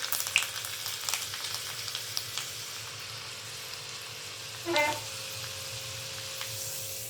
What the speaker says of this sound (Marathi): चटणीसाठी लागणारा लसूण आधी आपण जरा हलकासा तेलात तळून घेऊया